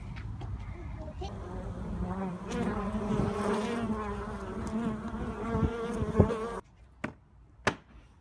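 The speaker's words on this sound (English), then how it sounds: "Now they're all standing still fanning because I moved that board." Honey bees buzzing and fanning at a hive, a steady dense drone close by that cuts off abruptly near the end, followed by a few sharp knocks in near silence.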